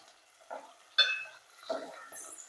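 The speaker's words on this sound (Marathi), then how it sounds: "लगेच ही चवळी तेलामध्ये भाजली पाहिजे" Black-eyed peas (chavali) are stirred in hot oil in a pan, heard as a few separate scraping bursts of spoon against metal with faint sizzle between them, quiet and close.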